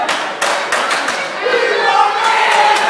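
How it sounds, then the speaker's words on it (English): A loud wrestling arena crowd roars and chants in unison. A few sharp claps and thuds punctuate the steady mass of voices, which swells into a sustained, tonal chant toward the end. "The crowd chanting for wrestling."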